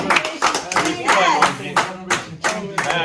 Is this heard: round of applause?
yes